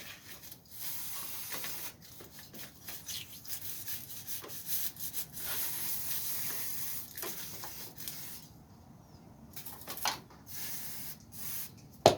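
A brush scrubs a Honda CBR500R motorcycle chain with cleaner, a faint rhythmic rubbing and scratching that comes in irregular strokes with brief pauses, close and quiet throughout.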